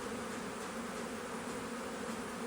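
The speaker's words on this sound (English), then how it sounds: "you can see where they're swarming. And they're all coming in. It's a big swarm." A big swarm of bees pours into an empty wooden bee box outdoors, making a dense, continuous buzzing hum that stays steady and fairly loud with no voices.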